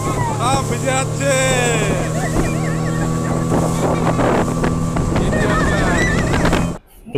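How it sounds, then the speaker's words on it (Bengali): Near and loud, a speedboat's motor roars continuously on the Maithon reservoir amid strong gusting wind and spray, with people talking under the din before the sound cuts off abruptly at the end. "যার ফলে প্রচন্ড শব্দ হচ্ছে, কিছুই কথা শোনা যাচ্ছে না।"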